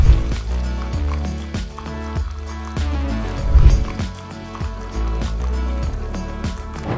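A rose-flavoured tea bag drops into boiling water, giving close, wet bubbling and dripping with irregular splashy pops and gurgles at varying loudness, no voices present.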